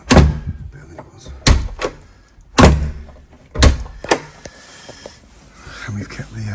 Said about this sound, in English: And doors shutting much better than it was.